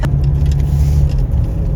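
Vehicles pass on a quiet rural road in Aurora Province, a steady low rumble of tires and engines that stays fairly loud and close throughout.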